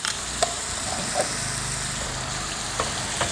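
Barbecue sauce heating in a pan while preparing beef steak, sizzling steadily and close, with a few soft clinks of a utensil against the pan.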